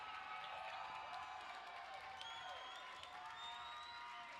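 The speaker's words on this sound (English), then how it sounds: "a big cheer goes up from the crowd" A roller derby crowd cheers and applauds at halftime, a sustained, fairly distant roar of voices and clapping with a few higher whoops rising above it.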